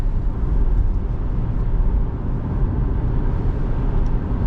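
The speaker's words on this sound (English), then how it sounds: "we are going to do some freeway driving" Road and engine noise from inside a 2005 Toyota Highlander V6 4WD cruising on the freeway, a dense, steady low rumble that holds constant throughout, loud and close.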